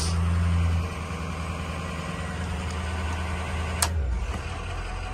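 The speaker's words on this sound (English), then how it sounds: "And boom, just like that, high idle." A Ford 6.0 Powerstroke diesel idles steadily with a low engine rumble, close by, and after a brief click its pitch shifts near the end as the engine settles into a raised high idle.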